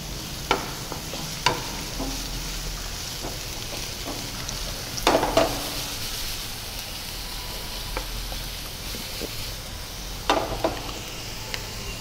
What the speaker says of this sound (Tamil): அதிலே நறுக்கின வெங்காயம் 1 ஆட் பண்ணி அதை நல்லா வதக்குங்க